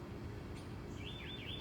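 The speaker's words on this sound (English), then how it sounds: "Do you hear the birds?" Birds chirp and trill at a farm, a short wavering high song rising faintly over steady low background rumble, with no voices.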